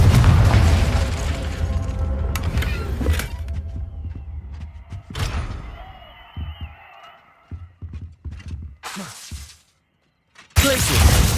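A Confringo fire spell explodes in the game Hogwarts Legacy: a loud, shattering blast opens the clip, and further crashing bursts and thuds follow, the last one sudden and loud, with a quiet, rumbling gap between them.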